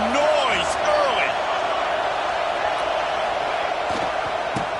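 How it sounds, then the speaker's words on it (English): A football stadium crowd roars in a continuous, loud wash of cheering and noise, with whistles and shouts poking through the steady din. "This crowd bringing the energy and noise early."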